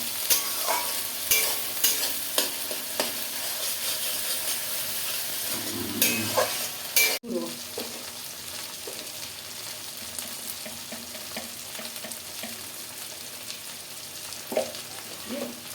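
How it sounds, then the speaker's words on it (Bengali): Mixed vegetables with cauliflower, paneer and ginger stirred in a frying pan, a steady close sizzle with repeated scraping strokes of a spoon, one sharp clatter midway. "ভালো করে নাড়িয়ে দেবো"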